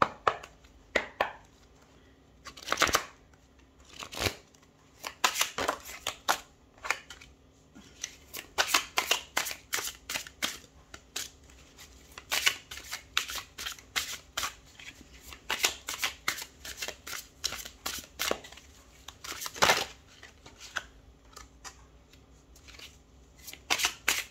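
Tarot cards are shuffled by hand in quick bursts of crisp riffling and slapping, close and fairly quiet, with short pauses between flurries and no talking.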